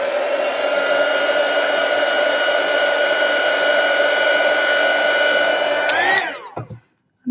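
A hair dryer blows steadily and loudly to dry a watercolour painting, a constant whirring hum that drops in pitch and cuts off as it is switched off near the end.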